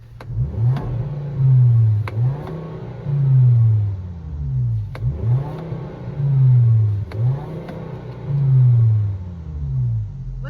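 A 2.5-liter engine in a 2013 Volkswagen Jetta revs repeatedly, rising and falling in a steady cycle of throaty surges, loud and close with no talking.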